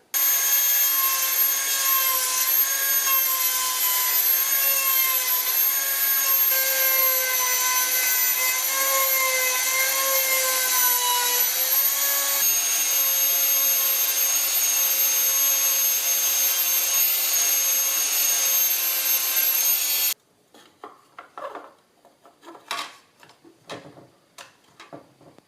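A power tool whines loudly and steadily for about twenty seconds while a part is trimmed to fit in a 1976 Mazda RX-5, its pitch wavering slightly. It then stops, leaving faint scraping and handling noises.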